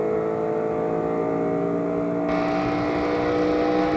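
Race cars at the 2005 ARCA Lester 150 drone steadily on track, a sustained engine roar with tonal whine that brightens and swells partway through as cars come closer.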